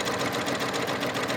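A sewing machine stitches through a bag with its motor whirring in a fast, steady, even rhythm. The machine is loud and close for a short moment, with no voices over it.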